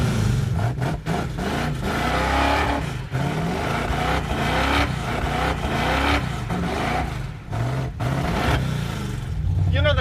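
A 1969 Ford Mustang Mach 1 with a worn clutch and close-ratio top loader transmission drives and revs, its engine loud and close throughout with rising and falling revs and brief dips between gear changes.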